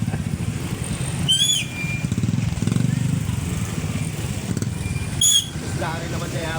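A motorcycle engine drones steadily beneath people talking, with brief high squeaks cutting through twice.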